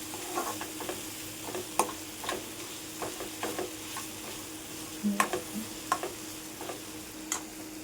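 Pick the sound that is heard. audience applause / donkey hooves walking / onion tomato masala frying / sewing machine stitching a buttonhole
onion tomato masala frying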